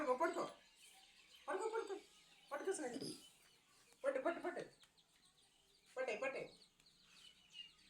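Chickens cluck and call in repeated bursts, fairly close, with short quiet gaps between calls.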